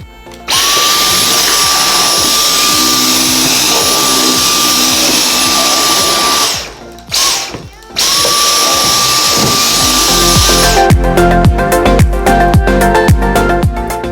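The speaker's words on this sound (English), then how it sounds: "now I'm gonna vacuum the stairs and be done." A vacuum cleaner runs loudly on the stairs with a steady whine, cuts out briefly, restarts, then gives way to rapid clicking and rattling handling noises near the end.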